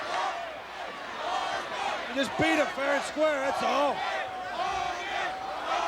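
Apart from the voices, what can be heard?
capacity wrestling crowd reacting at CNE Stadium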